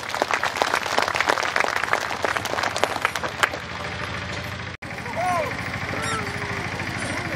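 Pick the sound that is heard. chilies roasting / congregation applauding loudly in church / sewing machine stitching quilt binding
congregation applauding loudly in church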